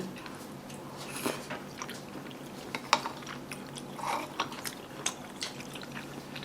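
Someone chews tteokbokki made from Vietnamese flour, close to the mic, with soft wet squishing and small clicks repeating irregularly, no talking.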